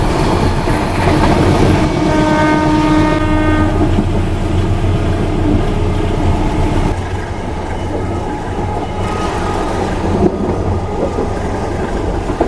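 A train horn sounds for a few seconds over the steady rumble and clatter of a moving Dharmawangsa passenger train, heard from inside the carriage; the horn then cuts off.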